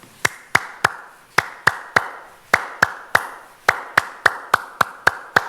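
A single person claps out a rhythmic pattern in groups of three, three, three and then seven: sharp, close, evenly spaced hand claps with short pauses between the groups and no talking.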